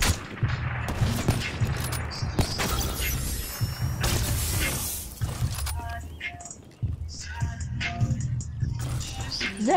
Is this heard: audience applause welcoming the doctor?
no